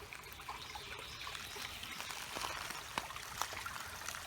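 Running water trickles and dribbles steadily at a low level, with faint splashy ticks scattered through it and no voices.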